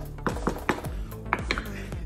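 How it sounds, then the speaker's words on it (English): A metal lid set onto a pot of chili gives a handful of sharp clanks and rattles over about two seconds, close by and distinct. "I'm going to put a lid on it"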